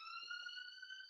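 A siren sound effect plays as a steady high electronic tone with stacked harmonics, faint and unbroken for about a second, with a couple of soft low thumps beneath it.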